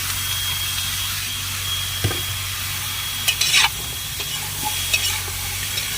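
Papaya being sautéed with ginger, garlic and onion for a sardine dish, a steady soft sizzle with a few clinks and scrapes of a spoon stirring in the pan, no talking.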